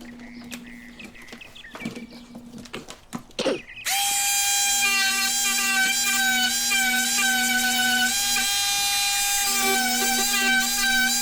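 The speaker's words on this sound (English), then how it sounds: "Now I'll sand down the top of the pillars so they won't be so rough." The tops of the pillars on a custom Matchbox Porsche model are sanded with a power tool. A few light handling clicks give way to a loud, steady, high-pitched motor whine that runs to the end.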